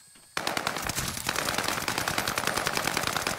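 Rapid automatic gunfire in a first-person shooter played by a team around a rooftop, bursting in suddenly after a quiet instant and then rattling on continuously, loud and close.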